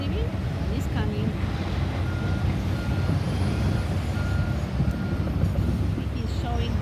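A loaded dump truck pulls away from a busy construction site, its heavy engine rumbling steadily and close, with repeated reversing beeps and a brief hiss of air brakes.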